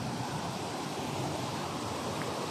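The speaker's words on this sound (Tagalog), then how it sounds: "Baka hindi marinig yung boses ko mamaya. Kasi, maingay na yung water." Loud, steady rushing of Lintungan Falls, a waterfall in Kasibu, Nueva Vizcaya, a dense continuous roar of falling water filling the whole clip without a break.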